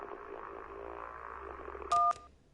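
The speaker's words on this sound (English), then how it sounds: "That was a motorboat's propeller failing." A motorboat's propeller fails in the video game Kentucky Route Zero: a dense, wavering mechanical drone that sputters and weakens, interrupted by two loud keypad beeps before it dies off.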